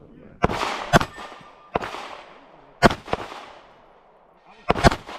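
Five sharp, loud gunshots ring out at an outdoor shooting range in uneven pairs and singles, each crack followed by a fading echo tail.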